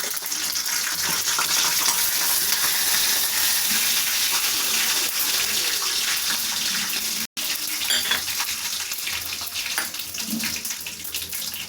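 Mustard seeds, urad dal and chana dal hit hot oil on a low flame for potato masala and crackle and sizzle loudly and continuously, with a dense spattering hiss close up throughout.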